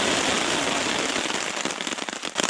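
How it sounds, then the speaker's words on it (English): Heavy rain pours down during a solo canoe camping trip on the Jordan River, a dense steady hiss with scattered sharper patters of drops striking nearby surfaces. "Well, it's like really raining now."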